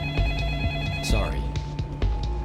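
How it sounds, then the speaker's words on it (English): In the Splinter Cell Pandora Tomorrow video game, a telephone rings at an airport office, an electronic ringing tone with bright harmonics sounding beside a busy background of voices and clatter. "Listen, the other line is ringing."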